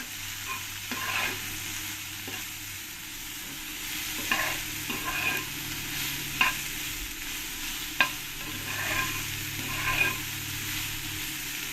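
Soybean chunks seasoned with salt and turmeric fry in a pan, a continuous close sizzle with occasional spatula scrapes and a few sharp clicks against the metal, no voices.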